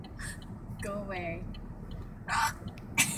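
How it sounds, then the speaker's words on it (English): A person's hiccups come out as a couple of short, sharp bursts near the end, following some voiced sounds earlier, close and fairly clear in a quiet room. "He's trying to record my hiccups."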